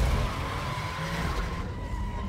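A Porsche tearing around a track in a racing video game, tyres skidding with a loud sustained squeal over a droning engine tone, close and continuous.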